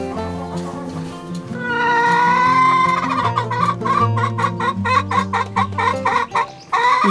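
Hens clucking steadily while fed corn, several birds close by, with rhythmic bursts of clucks growing busier toward the end.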